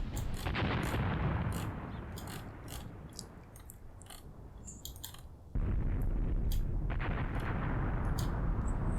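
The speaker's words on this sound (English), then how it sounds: "They're calling in some artillery of their own up here." Artillery fire in Graviteam Tactics, a war strategy game: a dense rumble of explosions and bangs with sharp cracks scattered over it, the barrage dipping midway before booming back loud.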